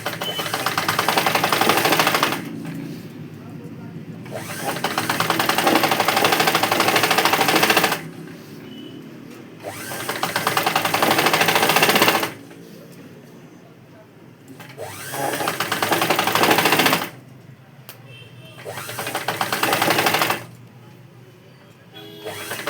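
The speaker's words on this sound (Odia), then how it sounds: "ଡବଲ ସିଲେଇ ପକେଇଦେବ" An electric sewing machine runs double-stitch seams on a blouse in a tailoring shop, whirring in several long loud bursts separated by short pauses, with the stitching rattle close and steady during each run.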